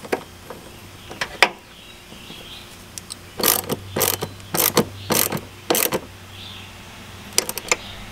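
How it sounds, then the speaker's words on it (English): Ratchet tightening the battery hold-down bolt on a Honda Odyssey, with a few early clicks, then several bursts of rapid ratcheting clicks, close and crisp, without talk. "We're going to tighten this bolt down."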